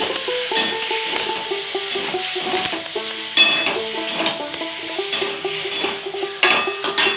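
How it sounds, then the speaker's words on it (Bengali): Yogurt, both white and red curd, being stirred into an onion- and garlic-free malai paneer curry in a pan: a steady, close scraping and gentle sizzle run throughout, with soft sustained tones in the background. "দিয়ে আর একটু নাড়বো"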